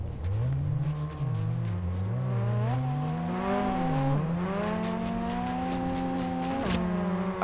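A car in the Fortnite video game drives with a loud, continuous engine drone whose pitch rises and falls as it revs and shifts, ending with a sharp screech.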